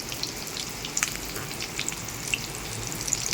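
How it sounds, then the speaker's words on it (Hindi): Marinated eggplant fingers frying one at a time in hot oil, giving a steady close sizzle with scattered pops and crackles throughout, no voices. "ये बैगन हम इस तरीके से डालेंगे। तो एक एक करके डालूँगी मैं, पहले एक फ्राई करूँगी बाद में दूसरा फ्राई करूँगी।"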